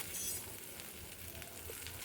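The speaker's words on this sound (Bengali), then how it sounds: "এবার আমি কেটে রাখা ভেন্ডিগুলোকে দিয়ে ভেজে নেব" Cut okra (bhindi) sizzles steadily in a wok as it begins to fry, a soft continuous crackle with faint stirring, fairly quiet and close with no voices.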